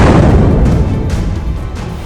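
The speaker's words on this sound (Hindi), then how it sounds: "धमाके का पहला वीडियो" A suicide bomb blast in Pakistan echoes with heavy low-end booming, followed by a few sharper bursts fading into a dull roar.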